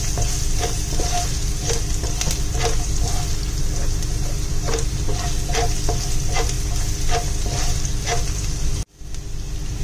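Ginger and garlic sauté in hot oil in a pan for a Kerala-style prawn roast, giving a loud, steady sizzle with regular scraping stirs, and the sound cuts out abruptly near the end.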